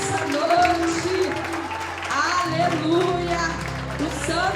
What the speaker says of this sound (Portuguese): Você que crê, aplauda bem forte ao Senhor Jesus nessa noite